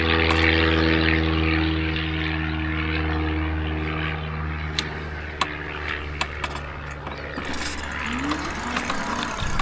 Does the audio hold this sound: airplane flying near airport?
yes